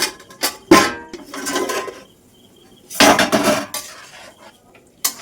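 Metal lid set down on a pan of simmering fish curry with chopped tomatoes and a little water, two clanking hits with rattles and shuffling in between, close and clear.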